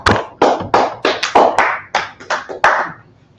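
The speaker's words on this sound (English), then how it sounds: "Clap it up for the class. Clap for the class." A handful of people clap in a loose, uneven rhythm for a class, about nine sharp, close claps that stop abruptly, with no talking.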